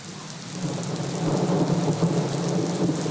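Steady rain with rumbles of thunder plays as part of a radio program's music bed, a continuous wash of falling rain that grows slightly louder after the first half second and carries on without voices.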